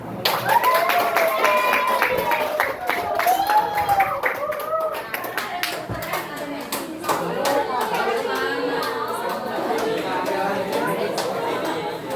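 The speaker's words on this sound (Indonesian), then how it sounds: "Silakan beri tepuk tangan." A classroom of students applauds during a teaching practice session, steady close clapping mixed with lively chatter and children's voices throughout.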